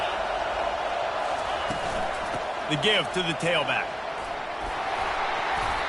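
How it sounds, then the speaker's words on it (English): Football stadium crowd roaring steadily on a third down, a dense broad wash of noise building under continuous play-by-play commentary. "Decibels rising as the crowd gets behind this defense on third down."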